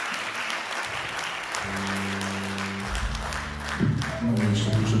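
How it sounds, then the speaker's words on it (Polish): Applause for a singer at a band concert, a dense steady wash of clapping from the audience, with instrumental tones sounding beneath it and swelling toward the end. "Wielkie brawo dla niej."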